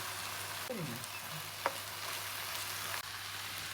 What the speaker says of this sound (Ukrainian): Фарш постійно ось так розмінаю, щоб не було великих грудочок.